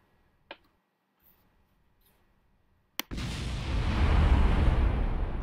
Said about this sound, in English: Oh, there goes another explosion.